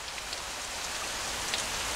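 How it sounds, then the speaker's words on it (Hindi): Steady rain falls on a surface, a dense, even hiss of many small drops with a few brighter drip ticks, continuous and fairly close, with no voices. "ये बारिश यानी 7 साल फरावानी रहमत का आगाज हो गया है।"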